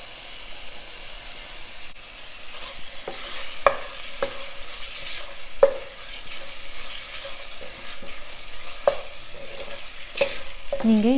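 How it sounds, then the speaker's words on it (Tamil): Small chicken pieces fry in masala for a semolina biryani, a steady close sizzle broken by repeated sharp scrapes and clacks of a spoon stirring the pan. "இப்போ அந்த சிக்கனை ஆட் பண்ணுறேன்."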